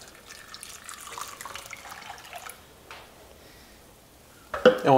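Whole milk is poured into a pot with pre-cooked wheat, salt, sugar and butter for a Neapolitan pastiera, giving a soft, close splashing trickle for a few seconds before a louder clatter at the end.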